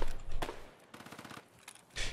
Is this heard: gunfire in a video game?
yes